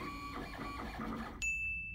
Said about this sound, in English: Some idiot must have spilled his coffee on the 3D printer.